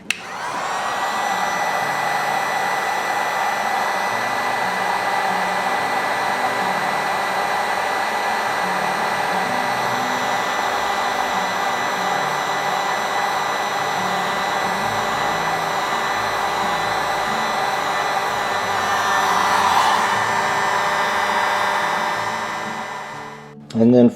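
Heat gun shrinking heat-shrink tubing over the LED brake and turn-signal wiring of a GS550 cafe racer: a loud, close, steady blowing whine that runs unbroken for the whole stretch before cutting off with a brief clatter.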